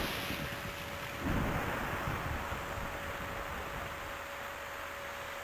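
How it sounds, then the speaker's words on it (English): Steady hiss of rain in a video game (Tactics Ogre: The Knight of Lodis) with a low rumble of thunder swelling early on, then continuing as a constant wash of noise and a faint tone. "It's still raining."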